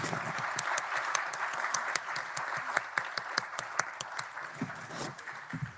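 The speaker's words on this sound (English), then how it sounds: "join me in thanking our panel with a round of applause" Audience applause for a science diplomacy symposium panel in a conference hall, dense steady clapping with a few louder individual claps standing out near the end.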